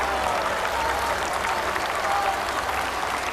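An English cricket crowd at a 1990 West Indies vs England Test roars and applauds a bowled wicket in a dense, steady wash of clapping and cheering, with a commentator's voice faintly underneath.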